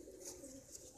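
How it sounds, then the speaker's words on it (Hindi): A female Chabdar Madrasi pigeon coos softly and close by, the low murmuring call running steadily through the second with no voices over it. "बहुत ही खूबसूरत मादा कबूतर है।"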